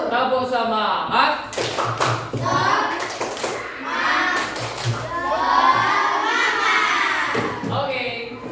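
Classroom of children doing a rhythmic clapping chant, sharp taps and claps in pattern mixed with kids' voices chanting and shouting together, lively and close.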